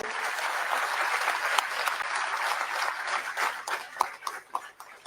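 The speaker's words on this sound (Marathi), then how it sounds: "टाळ्यांचा जोरदार गजर मला वाटतं आपण सुरू ठेवूया" An audience applauding at an award ceremony honouring a veteran theatre actor, dense sustained clapping from a large crowd that turns more uneven and thins out toward the end.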